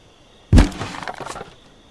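A single sharp crack of breaking damaged wooden planks in Thief Simulator, a loud impact followed by a brief splintering rattle of debris that fades within a second.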